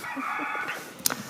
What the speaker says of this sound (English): There's a rooster in the house.